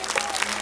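An audience at a Bhagwat Katha religious discourse in a village claps their hands, a brief burst of dense applause.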